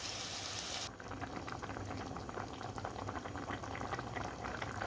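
Water is poured into a pan of chicken, zucchini and potatoes with a brief rushing splash, then the mixture settles into a steady, faint, bubbling boil.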